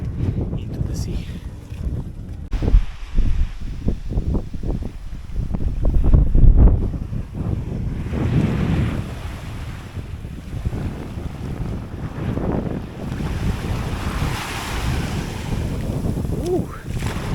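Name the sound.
wind and waves at a beach in Oman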